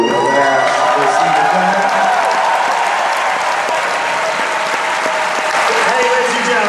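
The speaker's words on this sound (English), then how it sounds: "a big round of applause for the man who gives us more credibility" A convention Q&A crowd for the Ash vs Evil Dead cast and crew breaks into loud, sustained applause mixed with cheers and whoops, an unbroken roar of clapping from a large room.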